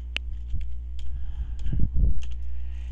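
Player name typed on a computer keyboard at a golf simulator setup screen, a few close, sharp key clicks over a steady low electrical hum.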